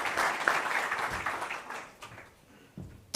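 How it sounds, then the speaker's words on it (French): An audience at an evening Ftour gathering applauds, a dense wash of clapping that is loud at first and then thins and fades over a few seconds. "je vous souhaite qu'on les applaudisse et qu'on leur dise un grand merci"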